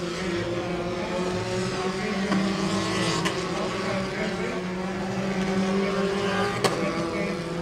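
A Formula 4 race car drives on a circuit during a Southeast Asian championship race, its engine a steady loud drone with constant tone, heard continuously with faint commentary mixed in.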